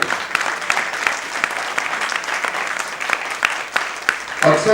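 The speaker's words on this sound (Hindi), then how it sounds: "एक बार जोर से तालियां बजा रही है।" Applause from the audience after a Hindi stage play about Kasturba: sustained, dense clapping at a moderate distance, with individual claps standing out and swelling slightly toward the end.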